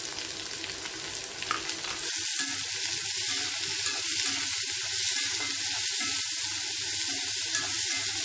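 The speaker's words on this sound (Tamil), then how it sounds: "இப்போ பொடியாக கட் பண்ண வெங்காயம் போட்டுடலாம்." Garlic and finely chopped onion hit a hot pan, and the sizzle jumps suddenly to a loud, steady crackling hiss that holds throughout. Quieter stirring and scraping come through under it at first. No talk.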